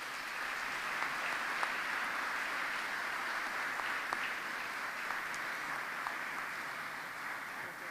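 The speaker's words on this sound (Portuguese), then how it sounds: "mas que merece o vosso aplauso." Sustained audience applause at a Portuguese science meeting, a steady dense wash of many hands clapping through the whole stretch at even loudness, with no speech over it.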